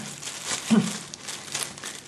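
Thin plastic bag wrapping on a pair of Keepersport Varan 3 Pro Hybrid goalkeeper gloves crinkles close up in short, soft rustling bursts, with no talking.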